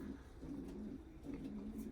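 Domestic racing pigeons coo softly in low, rolling phrases after a snowstorm, several birds overlapping in a steady murmur close by, with no voices.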